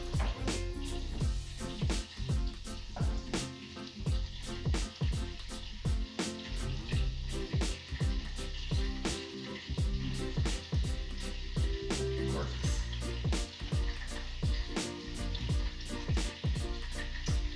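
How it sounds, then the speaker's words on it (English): Butter melts in a hot pan beside seasoned meatballs, giving a soft, steady sizzle with a quick rhythmic crackle throughout, heard alone without speech. "The butter is melting in with a little of that."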